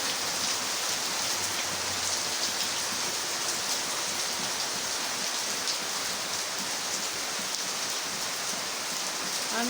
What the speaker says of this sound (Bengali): কি পরিমাণ যে বৃষ্টি শুরু হয়েছে দেখেন।